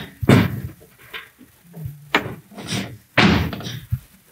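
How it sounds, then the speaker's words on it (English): A BMW M3 door shuts with a solid thunk, followed by a couple more muffled knocks and bumps, close by in a quiet space. "And now when we close the door"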